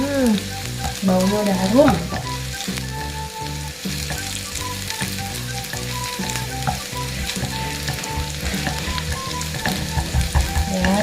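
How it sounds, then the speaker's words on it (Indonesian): Vegetables stir-fried in a hot pan make a continuous sizzle with scraping and stirring throughout, while a person talks over the cooking. "Oh, kita tumis dulu."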